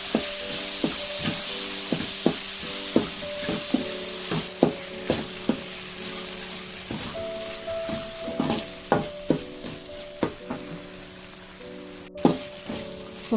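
Ingredients sautéing in a pan for a green gram masiyal, a steady crackling sizzle punctuated by regular spatula taps and scrapes throughout.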